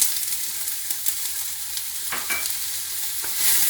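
Diced onion and thinly sliced garlic sauté in a soup pot with a steady bright sizzle, broken by a few scraping stirs of a utensil against the pot, close and continuous.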